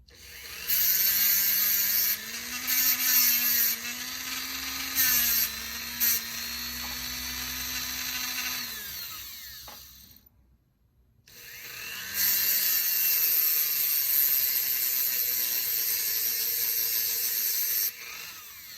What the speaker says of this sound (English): I'm just going to take my Dremel and just hit the end of this and kind of flatten it back out